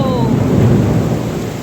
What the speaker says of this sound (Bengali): দেখো কি জোরে বৃষ্টি নেমেছে